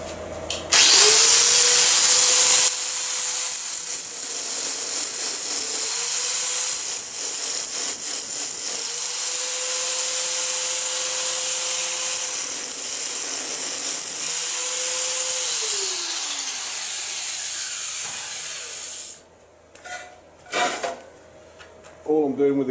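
Angle grinder grinding metal off a demagnetizer casing, a sustained loud whine in several long bursts with pitch dips as the disc bites, followed by brief clatter near the end.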